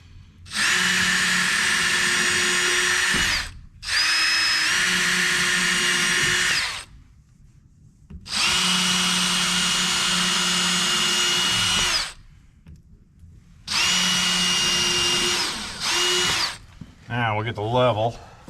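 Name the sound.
power drill drilling holes while building steer pen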